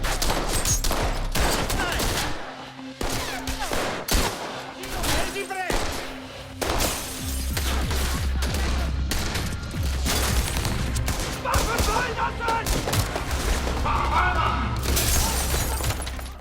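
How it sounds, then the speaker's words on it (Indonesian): Sustained gunfire from a police shootout, dense bursts and cracks running throughout under a loud music bed and dramatic movie-style effects. "polisi datang juga ke lokasi tersebut dan baku tembak pun terjadi dengan sangat alot"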